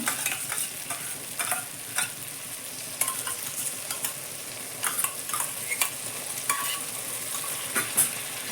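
Spice masala and beaten sour yogurt are fried on low heat for a jackfruit and prawn curry, with a steady sizzle under frequent scraping and clinking strokes of a spoon stirring in the pan.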